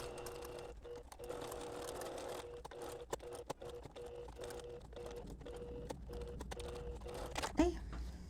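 Sewing machine running a straight stitch close to the edge of embroidered fabric, soft rapid ticking in short bursts with brief pauses, fairly faint, with a voice talking quietly over it.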